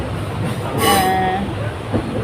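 A train running with double engines climbs a hill line toward Madurai via Sengottai, a steady rumble of the rolling cars broken by a brief squeal of wheels near the middle, with faint talk underneath.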